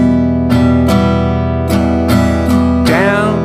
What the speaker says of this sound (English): we're going to use a common campfire strum for this one